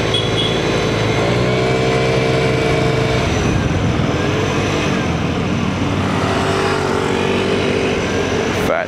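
A 2024 Vespa Primavera scooter cruises at night, its engine humming steadily under constant road and wind rush, loud and close throughout with slight shifts in pitch.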